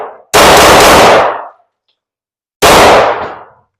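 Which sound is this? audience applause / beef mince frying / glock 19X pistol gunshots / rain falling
glock 19X pistol gunshots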